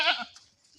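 A goat bleats once on a farm where a mother goat has just given birth to twins, a brief wavering cry that fades quickly into quiet.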